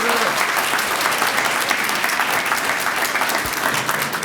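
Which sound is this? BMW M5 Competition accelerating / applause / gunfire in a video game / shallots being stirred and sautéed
applause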